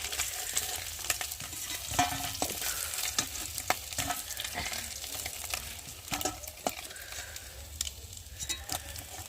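Fish pieces fry in hot oil in a kadai, giving a steady crackling sizzle with irregular pops and spatters, close by and fairly quiet, with no speech.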